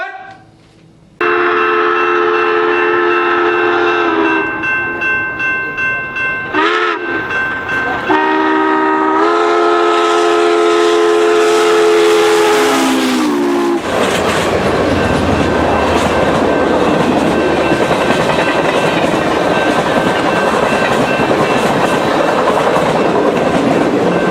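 A train horn sounds in long blasts, then gives way to the loud, steady rumble and clatter of rail cars rolling past close by.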